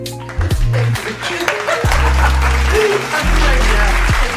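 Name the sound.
applause cheer played on a podcast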